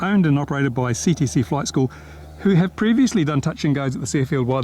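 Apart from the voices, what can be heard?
No everyday noises stand out.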